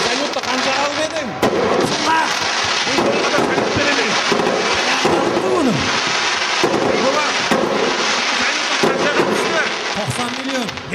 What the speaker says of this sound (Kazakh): Жаңа жылда әніне салют атады.